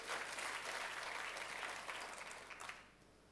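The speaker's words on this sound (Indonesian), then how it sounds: "tepuk tangannya yang meriah buat Tuhan kita" A church congregation claps warmly for God during a sermon, a broad wash of applause that holds steady and then fades out toward the end.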